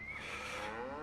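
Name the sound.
cows mooing in video game Farming Simulator 25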